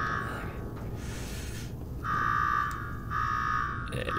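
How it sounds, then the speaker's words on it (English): Electronic alarm ringing in the video game Fallout 4, a loud buzzing tone sounding in repeated bursts separated by short gaps, with no speech over it. "Now go shut off that damn alarm."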